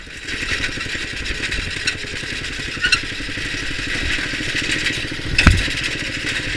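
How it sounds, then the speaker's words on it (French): A racing lawn tractor's small engine runs steadily up close, recorded from a helmet-mounted GoPro, with a rattling, buzzing drone, punctuated by a few sharp clatters and a brief louder burst near the end. "je pars rouler avec la GoPro sur le casque pour tester le tracteur"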